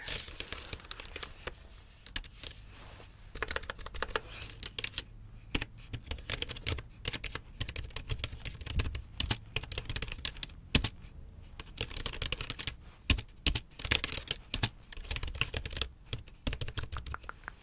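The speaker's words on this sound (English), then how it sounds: "Typing a little bit of your script here." Steady typing on a computer keyboard during an ASMR-style post-op appointment role-play, close and crisp with irregular bursts of key clicks and brief pauses throughout.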